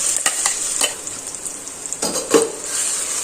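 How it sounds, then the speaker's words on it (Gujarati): Raw mango chutney paste sautéing in a pan, a steady close sizzle with occasional scraping stirs of a spoon against the pan, no talking. "આવી રીતે બધી પેસ્ટ એડ કરી અને તેને આપણે સાતળી લેશું"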